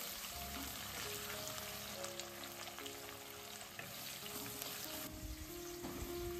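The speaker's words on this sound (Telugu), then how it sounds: "ఇవన్నీ కూడా మంచిగా గోల్డెన్ బ్రౌన్ వచ్చేదాకా ఫ్రై చేసేసుకోవాలన్నమాట." Lentils, chillies, curry leaves and onions fry in oil toward golden brown, giving a steady dense sizzle with faint stirring over a low background hum, close and continuous throughout.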